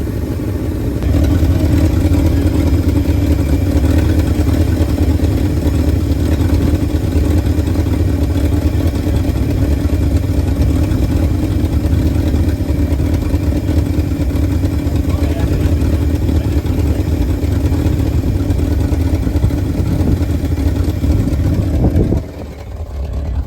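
The engine of a 1971 Ford F250, left sitting in the trees for nine years, runs loud and close in a steady, unbroken drone before cutting down abruptly near the end.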